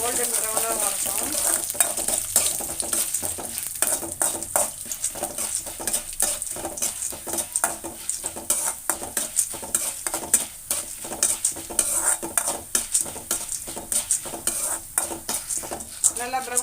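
Continuous sizzling of chana dal frying in a pan until golden brown, with a spoon repeatedly scraping and stirring in an uneven rhythm, close by.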